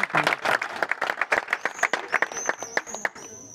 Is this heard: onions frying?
no